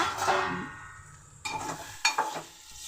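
Tempering seeds sizzle and crackle in hot oil in a pot on the stove, the start of a bitter gourd fry. A steady frying hiss runs throughout, with a few louder spits and pops near the end.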